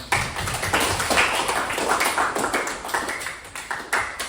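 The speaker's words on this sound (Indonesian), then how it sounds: "tepuk tangan untuk kita semua" Students in a classroom clap their hands together, a steady run of dense, close claps lasting several seconds with slight pulsing in intensity, no talking over it.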